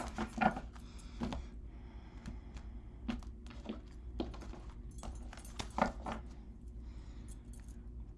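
Tarot cards being shuffled by hand, a run of soft papery riffles and taps with a few sharper clicks, close and fairly quiet, with no talking.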